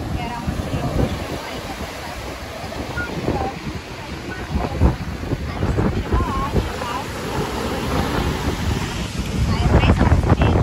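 Waves washing in at Praia do Francês beach in Maceió, a continuous rushing surf mixed with heavy wind buffeting the microphone, steady and fairly loud throughout.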